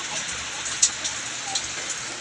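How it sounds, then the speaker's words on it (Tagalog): Steady rain falls in a continuous close hiss with a few brief louder drops, no talk. "Kaya tinitignan nila yung ulan."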